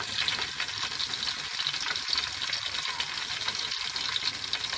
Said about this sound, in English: I'm going to warm it with a little onions.